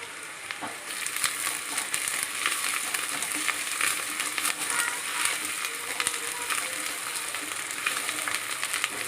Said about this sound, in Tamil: இந்த பூண்டு நல்லா இந்த எண்ணெயிலே வேகட்டும் இது எப்படி வதங்குது பாருங்க